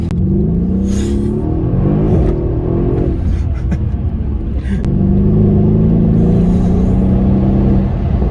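A Mercedes CLS63s AMG with a 585 hp engine in comfort mode in town, accelerating with a loud, close, smooth engine rumble that rises, dips briefly, then builds again.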